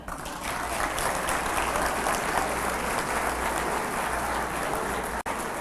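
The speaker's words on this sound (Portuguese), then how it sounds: "Aplauda ao Senhor." A church congregation claps together in sustained, dense applause that stays loud and even for several seconds before cutting off near the end.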